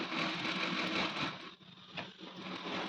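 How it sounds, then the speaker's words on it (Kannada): A sewing machine runs steadily, stitching a boat-neck blouse design, with a fast, even whir that dips briefly about halfway through and then resumes, close and alone. "ಅದ್ರ ಮೇಲೆ ನಾನು ಸ್ಟಿಚ್ ಹಾಕ್ತಾ ಇದ್ದೀನಿ"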